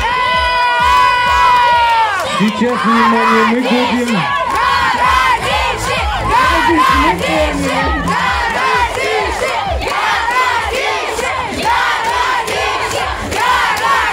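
A crowd of children cheers and shouts loudly at a contest in a hall, a dense, continuous roar with high voices rising over it, while an adult speaks briefly at the start.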